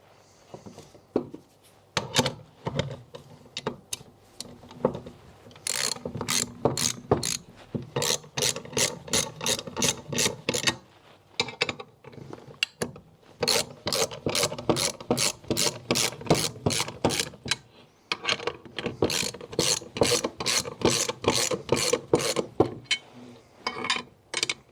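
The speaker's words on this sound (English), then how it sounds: "I'm going to clamp that down until we lose the gap." A clamp being tightened on a Jaguar XK8 shock mount makes rapid, close ratchet clicks in repeated bursts with brief pauses between strokes, clear and without talk.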